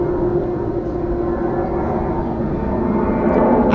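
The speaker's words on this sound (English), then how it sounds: "Can you hear that plane flying overboard?" A loud plane passes overhead, a broad rumbling roar that holds steady and swells toward the end, with no voices over it.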